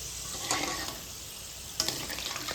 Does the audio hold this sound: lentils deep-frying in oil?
yes